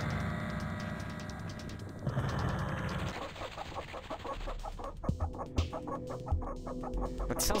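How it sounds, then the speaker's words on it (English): A clockwork chicken in the video game Neko Yume clucks in quick repeated bursts over a layered game soundtrack, the clucks turning sharper and more distinct toward the end. "It sounds like chicken sounds."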